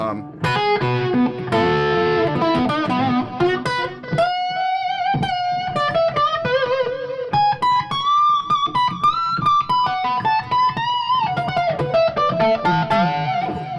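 An electric guitar plays a busy riff then a bending lead melody with effects, loud and continuous, with no voices over it.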